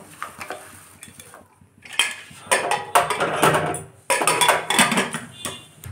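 A metal cooking pot, likely a pressure cooker, holding potatoes with turmeric and salt, gets its lid put on with close, bright metallic clanks and scrapes in a few separate bursts, with no voices.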